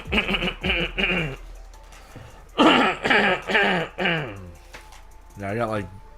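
Someone with allergies coughs and clears the throat in short harsh bursts, then a quick string of several coughs, close to the microphone, followed by a brief laugh.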